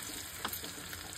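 Spices frying in hot oil in a kadhai for Chhattisgarhi-style kadai paneer curry, a steady faint sizzle with one brief brighter crackle partway through and no talking.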